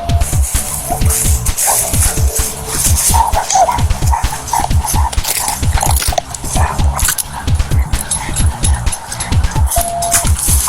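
A police dog barks loudly and continuously in rapid bursts close by during an arrest, with engine rumble and commotion around it.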